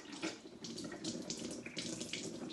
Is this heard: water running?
yes